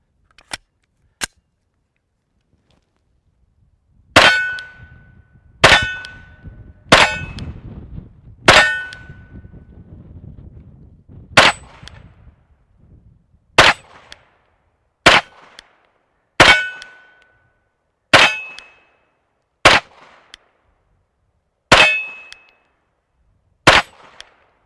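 Pistol rounds from a 9mm ring off a steel hostage target one at a time, about a dozen sharp metallic clangs with a short gunshot crack at each, spaced roughly a second or two apart, loud and close, with no talking.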